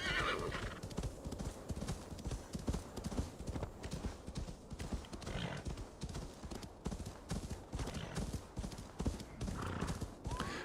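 Horses in the video game Assassin's Creed Valhalla trot with a steady, continuous clip-clop of hooves, joined by an occasional whinny, loud and close throughout.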